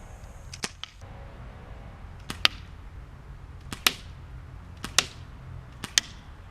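Shots from a Daisy 74 BB gun aimed at a twig: several sharp, close cracks, some in quick pairs, spaced over a few seconds against a quiet outdoor background.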